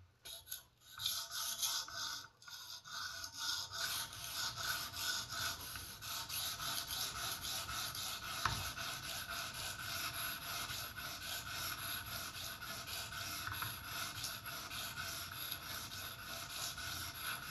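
A high-end folding knife blade is sharpened on an Edge Pro Apex guided system, its stone drawn along the edge in steady, gentle, continuous rasping strokes that stay fairly quiet and close, with no talking.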